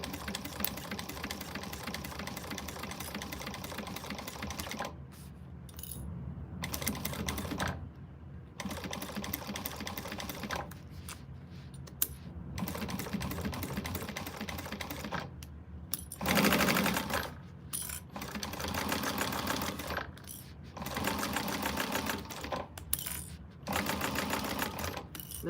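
Sewing machine stitching a contrast band onto a quilted bag, running slowly in steady mechanical bursts with short pauses between runs, close and clear with no talking.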